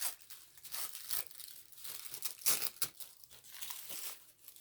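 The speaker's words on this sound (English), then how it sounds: "I love this tissue paper." Tissue paper crinkling and rustling close by in quiet, soft irregular crackling bursts over a few seconds, with no talking.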